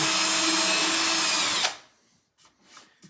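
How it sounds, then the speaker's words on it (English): A loud, steady power drill whines continuously, drilling a hole in furniture for hardware, then cuts off abruptly, leaving a few faint knocks and rustles. "start drilling the hole out"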